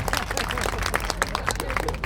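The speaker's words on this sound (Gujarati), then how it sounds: "જોરદાર તાળીઓ પાડો મિત્રો એમના માટે" A crowd claps steadily for a donor at a community felicitation ceremony for a Raval Samaj education complex. The dense, even applause from many hands runs for about two seconds with no break.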